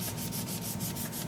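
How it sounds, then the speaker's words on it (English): A Sandvik sanding drum runs sandpaper against a workpiece edge, producing a continuous, close, rhythmic rasping with a steady pulsing scrape and no talk. "I'm very fond of using a Sandvik sanding drum, because you can put any"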